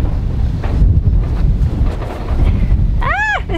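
Heavy wind buffets the microphone in a steady low roar, with a brief wavering cry near the end.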